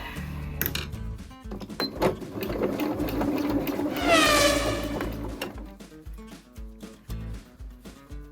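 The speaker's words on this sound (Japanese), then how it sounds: "ファスナーの金具に縫い付けていきます。" A sewing machine stitches steadily onto metal zipper fittings for fabric pop-up roof panels on a converted kei camper, a close mechanical whir with rapid needle ticking that speeds up in the middle stretch and then slows, no voices.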